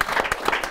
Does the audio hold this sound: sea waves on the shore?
no